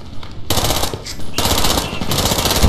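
Rapid automatic gunfire from a first-person shooter set in a combat mission, loud bursts erupting after a brief lull and continuing almost without pause to the end.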